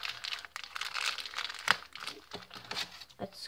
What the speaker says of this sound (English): Let's open up this pack of bullets.